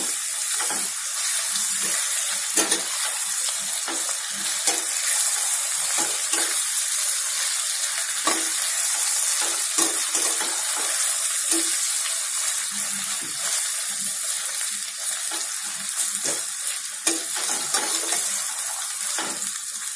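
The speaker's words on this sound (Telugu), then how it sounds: "కొద్దిగా పసుపు, కొంచెం ఫ్రై అవ్వనివ్వాలి." Turmeric fries in oil in a pan for a chicken gravy, giving a steady hissing sizzle scattered with small pops and occasional stirring clicks throughout.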